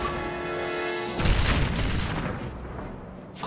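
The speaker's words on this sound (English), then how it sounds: "This guy, too, has a rocket launcher." A rocket launcher fires in the video game Valkyria Revolution, a loud booming blast that bursts in after a steady hum and then rolls off into a fading rumble.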